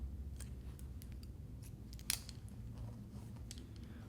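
Scissors snip through hair during a uniform layered haircut, giving a series of quiet, crisp cuts spaced irregularly over a faint background, with one sharper snip near the middle.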